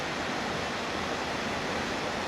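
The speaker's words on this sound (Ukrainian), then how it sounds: "Річка, шум річки" A river rushes nearby in a loud, constant broadband roar that holds steady from start to finish.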